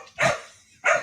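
Two loud dog barks close by, a pair of sharp bursts separated by a short pause, with no talking around them.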